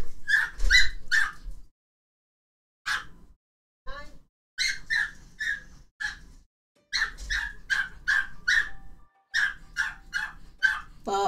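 A small dog barks and yips in quick bursts of several sharp, high-pitched barks separated by brief pauses, fairly close and alone, with occasional whimpers between.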